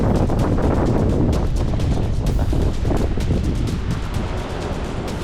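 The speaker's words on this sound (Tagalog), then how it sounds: "Makita na to ang kusog sa hangin." Strong, gusty mountain wind in bad weather on Mt. Pulag roars and buffets steadily for the whole stretch, a loud, rushing, continuous blast with no voices.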